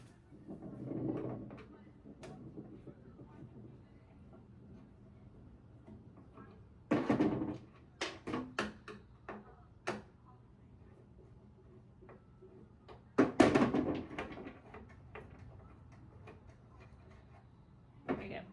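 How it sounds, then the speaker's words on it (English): Screws are worked out of an old Eastlake dresser with a plain hand screwdriver, giving scattered small ticks, scrapes and clunks separated by quiet gaps, close by and with little or no talk. "I'm just going to use old-fashioned screwdriver"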